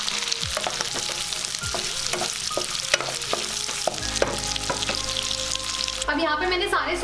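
Onion and bell pepper stir-frying in a pan for a Chinese-style dish, with sharp clinks and scrapes of a spatula over a sizzle that swells into a louder, denser hiss near the end.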